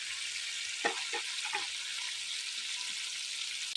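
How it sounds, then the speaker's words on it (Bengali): Spice paste sizzles steadily in a hot pan for a Bengali village-style jackfruit curry, a constant bright frying hiss with a few soft stirring scrapes near the start, close and with no talking. "মশলাটা ভালো করে কষায় নেব।"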